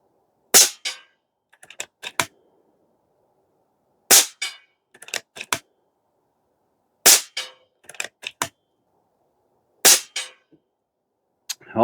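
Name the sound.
Airmaks Krait Pro L .30 cal air rifle shots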